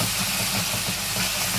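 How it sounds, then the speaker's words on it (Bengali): Ginger garlic paste hits hot oil in a pan and is stirred, giving a loud, steady, close sizzle with a dense hiss throughout and no voices. "এবার দিয়ে দেবো আদা রসুনের পেস্ট, এটাকে একটু নাড়িয়ে নেব তেলে"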